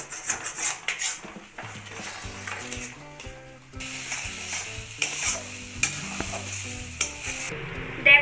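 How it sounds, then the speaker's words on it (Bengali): Minced lote fish for jhuri frying dry in oil in a pan, stirred with a spatula: a steady close sizzle broken by repeated scrapes and clinks against the pan, with no one speaking. "নাড়াচাড়া করতে হয় না হলে কিন্তু তলায় লেগে যাবে আর এটা পুরো ভাজা ভাজা হবে"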